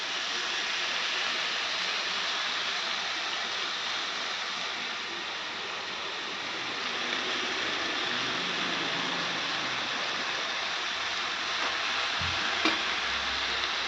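Fenugreek leaves sautéed with tomato and onion are being stirred in a pan, giving a steady soft sizzle and scraping hiss that runs unbroken throughout, close and moderate in level.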